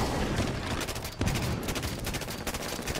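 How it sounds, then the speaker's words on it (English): Dense, continuous rapid gunfire from a chain gun in the video game Halo 5 Warzone, loud and close, with rattling bursts overlapping into a sustained fusillade. "That guy has George's chain gun"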